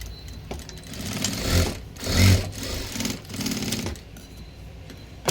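A sewing machine stitches tucks on a blouse, with bursts of rapid mechanical whirring and clatter rising and falling between short pauses, close and fairly loud with no talking.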